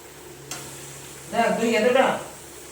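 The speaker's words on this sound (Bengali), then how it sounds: "এবার চিকেনটা দিয়ে ভালো করে কষে নেব" Marinated chicken pieces, seasoned with salt and pepper, stir-fried in a pan for chicken korma; a soft click, then under a second of loud hissing sizzle with stirring scrapes that stops abruptly.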